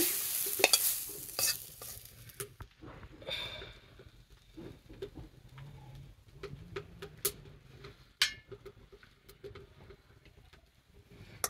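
Country chicken curry sizzles in a pan in a village kitchen while a spatula scrapes and stirs it close by. The frying hiss runs steadily under irregular metallic taps and clinks, with no talking.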